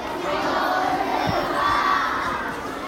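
An audience at a Diwali community event cheers and shouts loudly after an Indian dance performance, a dense steady crowd roar lasting a few seconds.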